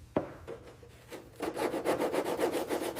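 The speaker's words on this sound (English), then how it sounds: "Scrape scale first, then brush. Control the tool so you don't thin the skin." Scale being scraped off the rusty metal skin of an abandoned Arado E 580 aircraft, then brushed: one sharp knock and a few scattered strokes, followed by steady, rapid, rhythmic scrubbing close by.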